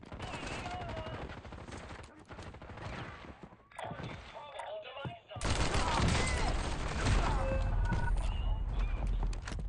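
Gunfire in the Modern Warfare video game: dense, close bursts of shots and sharp cracks, with a fuller, louder barrage in the second half, mixed with game effects and voiced radio-style callouts.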